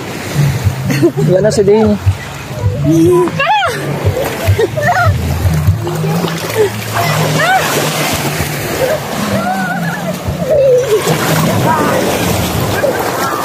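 Ocean waves wash and splash along a beach at Lobo, Batangas, a steady surf and water noise with wind buffeting the microphone, under near, lively conversation between several people.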